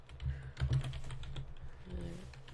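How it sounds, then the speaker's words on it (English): Fingers clatter across a computer keyboard in a quick, uneven run of close key presses, with a short pause and a few softer strokes near the end. "I should look at what I'm typing and not. Damn it. And not my keyboard"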